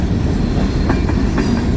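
A CSX freight train, M372, rumbles past close by, loud and continuous, with rhythmic wheel clatter over the rails.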